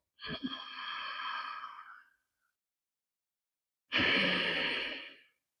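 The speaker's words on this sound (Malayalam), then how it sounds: "നമ്മൾ തൊണ്ട കൊണ്ട് ഒരു ശബ്ദം പുറപ്പെടുവിക്കുകയാണ് ഞാനത് കേൾപ്പിച്ചു തരാം ഇതാ നോക്കിയോ ഇങ്ങനെ ശ്വാസം എടുക്കുമ്പോൾ" Two long, close breaths drawn through a constricted throat during a yogic breathing exercise for thyroid control, each a raspy, hissing inhalation lasting about two seconds, separated by a silent pause, with no talking.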